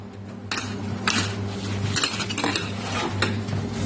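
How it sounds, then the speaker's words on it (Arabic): An oven is washed and scrubbed, with dishes, pots and metal pieces clattering and clinking close by in several sharp bursts over steady scrubbing, with no voices. "هنغسل الفرن بالشكل ده وننضفه"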